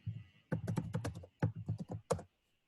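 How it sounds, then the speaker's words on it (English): Keys clatter on a computer keyboard in quick bursts of clicks separated by short pauses, close and fairly crisp, with no talking. "I think somebody's typing"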